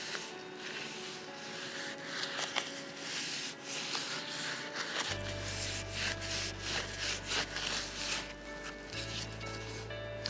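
A rag or pad rubs excess antique finish off a bridal bouquet wrap project, producing a close, continuous scrubbing and wiping with irregular strokes.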